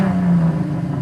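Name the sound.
minivan revving engine doing a burnout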